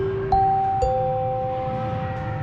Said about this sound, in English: The J.C. Deegan chimes were used for PA sign-ons and sign-offs in schools throughout the San Fernando Valley.